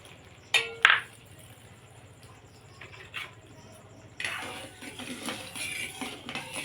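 Metal utensils clink sharply twice against a metal wok as sugar and water go in for a sugar syrup, followed by a softer steady patter and rustle of pouring, close and fairly quiet.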